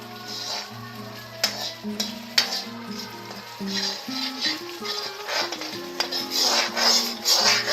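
Masala with salt frying and being stirred in a kadai for dhaba-style kadai paneer, with soft sizzling and repeated metal spatula scrapes and clinks against the pan at an irregular pace, under a steady tonal background.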